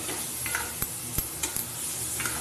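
Pea filling stirred in a pan with a spoon, a soft sizzle beneath several distinct metallic clicks and scrapes, close and without speech.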